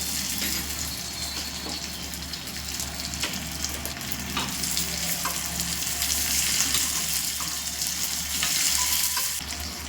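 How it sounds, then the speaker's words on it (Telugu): Raisins fry in hot ghee or oil in a pan while making rava laddu, a continuous close, bright crackling sizzle with occasional stirring scrapes and no talk. "ఫ్రై అవుతున్నాయి కదా, ఇదే టైంలో కిస్మిస్ కూడా వేస్తున్నాను"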